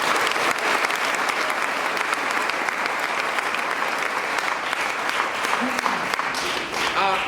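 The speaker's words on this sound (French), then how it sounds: "Est-ce qu'on peut acclamer cette parole du Seigneur?" A church congregation applauds at an evening service, a dense and sustained burst of clapping from many hands that fills the room at a steady loudness throughout.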